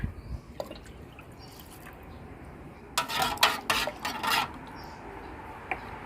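Curry paste is stirred into water in a container, giving scattered soft drips and clinks and then a short run of louder scraping, rattling strokes, close by with no voices.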